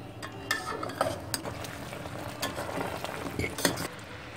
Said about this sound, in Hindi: गैस कम करके इस तरह से चलाते रहेंगे जिससे चीनी जले नहीं।